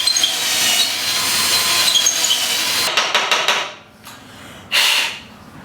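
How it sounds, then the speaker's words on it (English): Drilling out a hole in a handmade kitchen knife, a steady grinding whir for about three seconds, then a few sharp interruptions, a short pause and a final brief burst of the drill close by. "I guess just need to drill it out a bit more."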